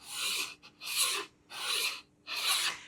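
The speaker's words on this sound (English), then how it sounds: "I'm going to take my sandpaper, I'm going to set it against the corner at an angle, and I'm going to run it back and forth along that edge" Sandpaper rasps back and forth along the corner edge of a wooden bookshelf, four close, even strokes with brief pauses between them, alone and with no talk.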